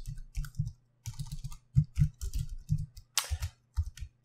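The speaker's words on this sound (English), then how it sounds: "So I'm going to type output links." Someone types on a computer keyboard in close, quiet clicks that come in irregular quick runs with short pauses, alone with no other sound.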